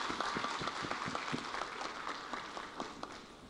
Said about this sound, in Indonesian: Tepuk tangan dong untuk Pak AHY.